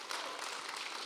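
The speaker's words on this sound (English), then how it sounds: "yeah, you can clap" Audience applause at a church service, a dense wash of many hands clapping together, steady and fairly faint across a brief moment.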